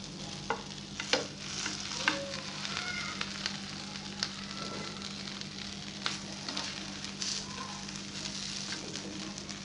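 Bread cheese rolls frying in a little oil in a pan, giving a continuous soft sizzle and crackle with occasional light scrapes and taps as they are turned, fairly quiet and close, without speech.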